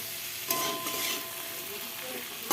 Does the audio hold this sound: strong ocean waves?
no